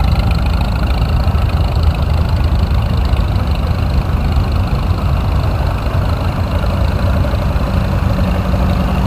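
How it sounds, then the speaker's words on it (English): A 1957 Farmall 350 tractor engine runs steadily at a hometown tractor show, a loud, continuous low rumble holding an even idle throughout with no talk. "a 1957 Farmall 350"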